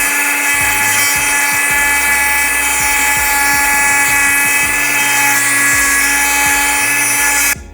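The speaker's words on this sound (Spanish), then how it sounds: "vamos a necesitar una Dremel con un disco de corte y bueno, es tan sencillo como ir rozándole poco a poco hasta hacer desaparecer el diente" A Dremel rotary tool with a cutting disc grinds the teeth off a metal part for an airsoft Sig Sauer MCX rifle, a steady high-pitched whine with repeated rasping bites as the disc is pressed in and eased off, loud and close.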